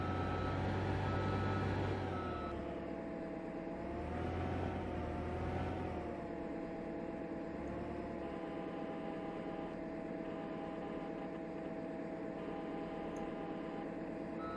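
A skid steer loader's diesel engine starting up and idling in Farming Simulator 15, a steady droning rumble with whining tones that dips and rises early on, then settles into an even idle.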